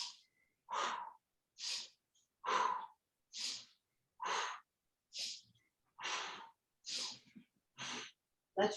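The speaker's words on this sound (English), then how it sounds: "you'll inhale through your nose to the right and blow it out your mouth to the left and spin that way" Steady, rhythmic breathing exercise during seated chair yoga, with about ten paired breaths alternating a nasal inhale and a forceful mouth exhale, evenly spaced and close, with no talking.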